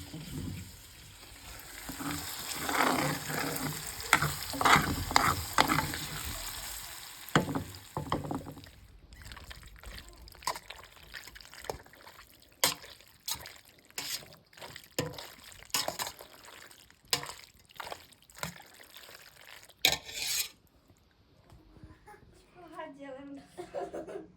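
Vermicelli pasta frying and being stirred in a pan at home, a soft continuous sizzle with scraping stir strokes, while a voice talks over it for most of the stretch.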